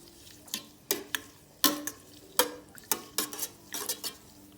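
Rose petals and water are stirred in a container, producing about a dozen sharp clinks and splashy swishes at an uneven rhythm over a quiet background.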